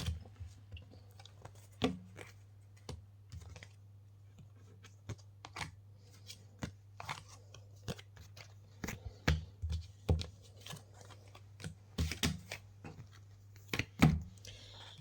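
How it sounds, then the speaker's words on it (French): Tarot cards being gathered and put away on a table: sparse soft clicks and light taps, some in quick clusters, close and quiet over a low steady hum. "Allez, je vais ranger les cartes."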